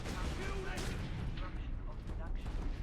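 Rapid gunfire in the Space Marine video game, dense overlapping shots and explosive bursts filling the whole stretch, with a voice talking over the barrage.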